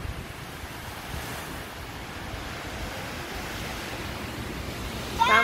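Ocean waves wash steadily onto Pohang Beach in South Korea, a continuous broad surf roar with some wind noise, alone without voices and swelling slightly louder at the very end.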